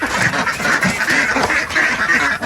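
A flock of ducks at a farm on flood-prone land quacks loudly and continuously at feeding time, dense overlapping calls close by with no pauses.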